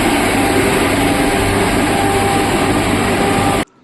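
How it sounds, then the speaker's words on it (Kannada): Loud, steady rumble and roar inside the driver cabin of a Vande Bharat sleeper train, a dense continuous wall of noise that cuts off abruptly near the end. "ಸೊ ನಿಮಗೆ ಟ್ರೈನ್ ಸೌಂಡ್ ಕೇಳಿಸ್ತೀನಿ ಈಗ, ಎಷ್ಟು ಸೌಂಡ್, ಲೌಡ್ ಸೌಂಡ್ ಇದೆ"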